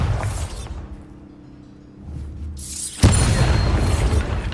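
A Bombarda blast spell in Hogwarts Legacy goes off with a sudden loud boom about midway, following a quieter rumbling stretch and leaving a dense, noisy roar afterward.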